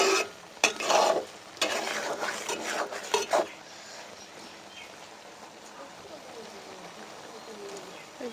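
Greens and potatoes stir-fried with onion and chili in a pan: a spatula scrapes and clatters against the metal a few times at the start, then a soft steady sizzle continues under a quieter stretch.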